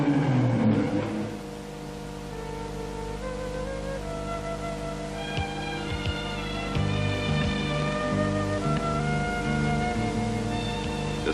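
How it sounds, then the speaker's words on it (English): Rally car exhausts from the 1979 San Remo Rally echo through the paved streets of Siena, a steady engine drone with revving swells, continuous and moderately distant. "The normally quiet paved streets echo to the sound of exhausts."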